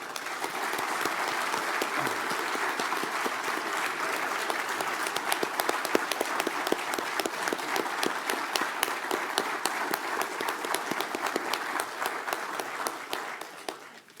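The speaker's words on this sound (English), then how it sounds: "I want everybody to give you a round of applause for your leadership through this past year" Audience at a state sheriffs' association fall conference gives a long, dense round of applause for an outgoing leader, sustained loud clapping that fills the room and tapers off at the end.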